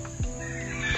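A chicken clucks in the background at home, a couple of short low clucks over a steady hum, fairly faint.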